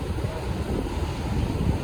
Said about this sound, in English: This amount of water is coming from here all the way, so this whole gap is getting salt water